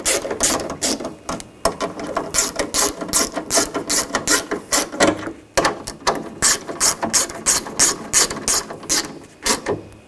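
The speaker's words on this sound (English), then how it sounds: "we're going to put all the bolts in and snug these down" A hand ratchet snugging down bolts on a 2000-2006 BMW X5 front window regulator clicks in rapid, regular bursts, close and loud, with one short pause mid-way and no voices.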